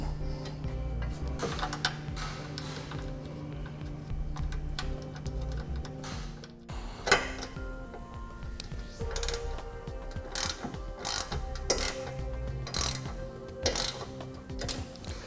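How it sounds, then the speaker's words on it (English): Ratchet clicking in repeated bursts while bolts are reinstalled and tightened on a Roadmaster EZ base plate kit mounted on a 2015 GMC Terrain, with clanks of tools and metal parts in a quiet garage. "And we can reinstall our bolts."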